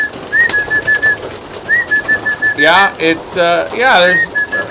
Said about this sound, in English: There are some new birds in here.